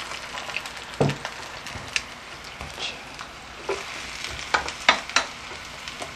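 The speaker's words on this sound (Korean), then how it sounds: "다시마하고 표고 무를 우린 육수인데 요걸 넣어서 이제 익혀줍니다" Vegetables cooking in a kelp, shiitake and radish vegetable broth for vegetarian jajangmyeon, giving a soft steady sizzle with scattered pops and stirring clicks close by; no voices.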